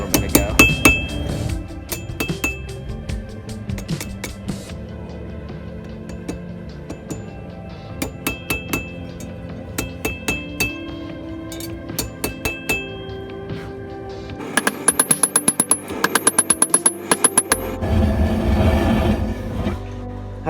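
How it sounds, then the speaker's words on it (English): A restored finishing hammer rings on steel while forging a small everyday-carry knife, bright metallic strikes in quick repeated bursts separated by short pauses, loud and close. "Realized I have a good old finishing hammer that we restored a little bit ago."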